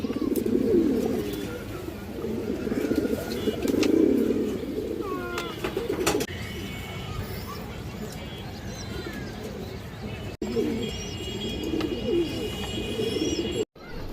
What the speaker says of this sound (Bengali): খুব সুন্দর এক পেয়ার বাঘা কবুতর আছে